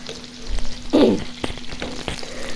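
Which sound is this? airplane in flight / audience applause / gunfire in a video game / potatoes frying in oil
potatoes frying in oil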